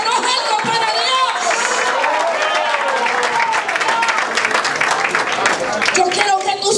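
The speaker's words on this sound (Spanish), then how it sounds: "denle un aplauso, alaba, aplaude" A church congregation applauds in praise, a dense, steady wash of clapping and crowd noise that fills the whole stretch, with voices and singing-like tones carrying over it.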